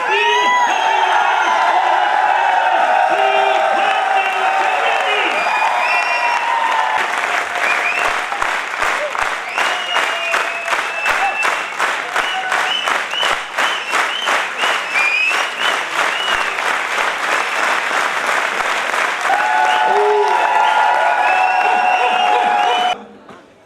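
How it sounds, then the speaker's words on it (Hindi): A large audience at a network-marketing business cader meeting bursts into loud, sustained applause with whoops and cheering, swelling into a rhythmic clap through the middle and fading at the end, with voices shouting over it. "मैं आपकी जोरदार तालियां, जोरदार हुटिंग, जोरदार हु अल्ले के साथ में आपकी जोरदार एक बार स्टैंडिंग ओवेशन के साथ"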